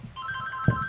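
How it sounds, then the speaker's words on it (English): A mobile phone rings with a bright, repeating electronic tone, moderately loud, along with a brief low thump. "And that's my phone ringing."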